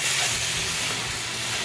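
Ground meat for inside-out stuffed cabbage fries in a pan with a steady, close, hissing sizzle that holds evenly throughout, with no voices over it.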